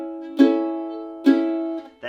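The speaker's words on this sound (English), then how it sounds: "So I'm just doing a hammer on with essentially a strum." Mandolin hammer-on with a strum on Angels We Have Heard On High, two bright plucked chords about a second apart, each ringing out and fading, played close and alone.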